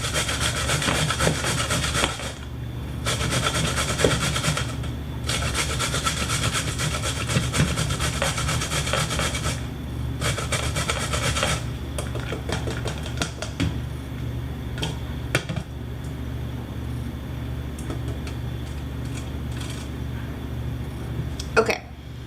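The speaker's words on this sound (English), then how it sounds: "I'm going to use 2 ounces of zucchini. So, just going to grate it." Zucchini is rubbed against a grater in rapid, rasping strokes that run in steady bursts, broken by a few brief pauses, close up and with no talk.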